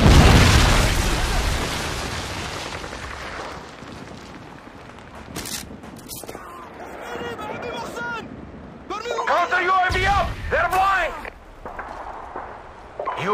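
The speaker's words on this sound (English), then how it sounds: "Friendly predator missile inbound." A predator missile strike in Call of Duty, played as hardcore Search and Destroy on the Karachi map, booms loudly at the start and trails off. Further bursts and gunfire follow as the match goes on, with game voice chatter mixed in.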